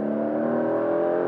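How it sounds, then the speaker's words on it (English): Porsche 911 GTS T-hybrid engine accelerating hard on road or track, a steady rising drone with stacked harmonics and a faint whine, close and loud, with no talk. "So I'm hearing a great sound from the engine under acceleration."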